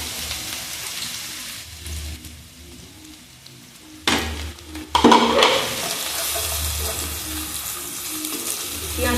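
Thinly sliced onions with bay leaves fry in hot oil for chicken kosha, giving a steady sizzle broken by sharp clatters and scrapes of stirring midway, after which the frying continues close and bright.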